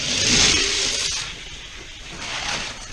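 Chevy Impala and Datsun 510 race on a Corkscrew Canyon track, a steady engine roar with broad tire and scrape noise that swells loudest at the start, dips in the middle, then rises again.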